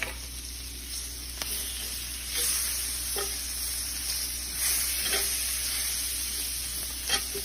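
Onions coated with a spoonful of all-purpose flour cook down in a pan for gravy, a low, even sizzle broken by a few soft stirring taps from a utensil.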